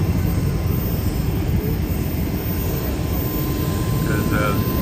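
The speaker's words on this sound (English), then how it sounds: "There's the Toronto Blue Jays charter plane." The Toronto Blue Jays charter jet sits at the airport, its engines producing a loud, constant roar and whine that fills the whole stretch, with a faint voice near the end.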